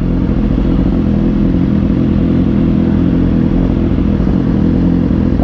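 Motorcycle engine running close by on the last day of the year, a loud, steady mid-pitched drone with slight clatter, continuous throughout and without voices.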